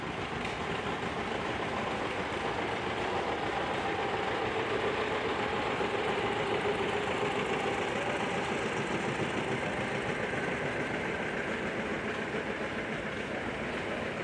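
A 1952 John Deere R tractor engine runs steadily at a show, a constant low rumbling drone with dense mechanical texture and no talking over it.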